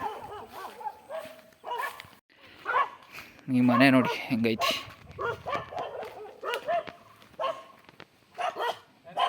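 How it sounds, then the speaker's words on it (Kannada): Dogs bark at an old house in a forest area, short yips and barks scattered through the stretch, mixed in with someone talking over them. "ಈ ಮನೆ ಆಗಲೇ ನಾಯಿಗಳು ಬೊಬ್ಬೆ ಹೊಡಿಯೋಕ್ಕೆ ಶುರು ಮಾಡ್ದೆ"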